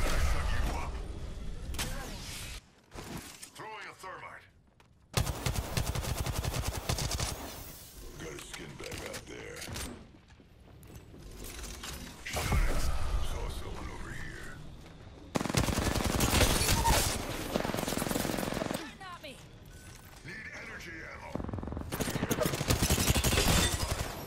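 Bursts of automatic gunfire in Apex Legends while playing Revenant on PS4, rapid volleys and single shots coming in waves, some close and loud, others quieter, with a player talking between them.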